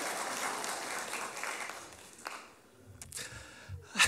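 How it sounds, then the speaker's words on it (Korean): Church congregation applauding during a Sunday morning worship service, a dense burst of clapping filling the first two seconds and then thinning out and fading to quiet with a few scattered sounds. "박수 한번 쳐줘요."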